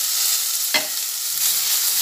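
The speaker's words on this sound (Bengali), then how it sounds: "আবার একটু ভালোভাবে ভেজে নিই।" Green chillies and salt frying in oil for katla fish curry, with a continuous close hiss and a single scraping stir partway through.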